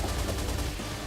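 Rapid gunfire from an enemy pirate ship in Shantae: Half-Genie Hero's Pirate Queen's Sky Raid, a dense continuous volley of shots under game music, loud and unbroken for about a second.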